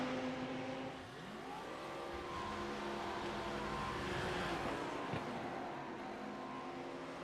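A racing car engine in a video game race at Oulton Park revs steadily before a launch from the pits, pitch sweeping and climbing through gear changes, loud and continuous with no talk.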